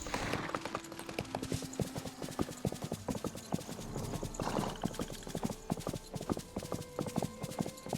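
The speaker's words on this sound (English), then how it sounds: "can I please ride my horse?" Hooves of a ridden horse in the video game Disney Dreamlight Valley keep up a steady clip-clop trot with faint mechanical clicks beneath, heard alone at low volume.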